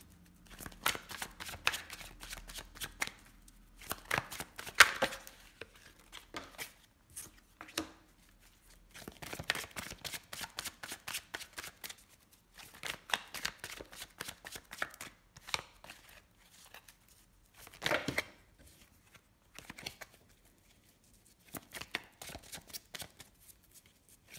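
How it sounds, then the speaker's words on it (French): Tarot cards being shuffled by hand, giving repeated bursts of crisp flicking and riffling with short pauses between rounds, close and fairly quiet throughout, with no talking. "Là par contre je vais laisser les cartes sauter."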